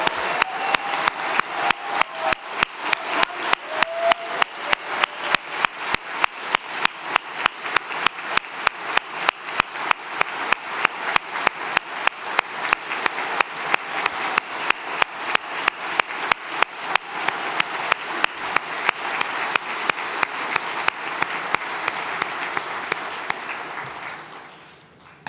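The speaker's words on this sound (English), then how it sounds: "please everyone give them a round of applause" A large gala audience at the TrevorLIVE New York benefit claps steadily for about 25 seconds in a dense, sustained round of applause that holds its level before tapering off at the end.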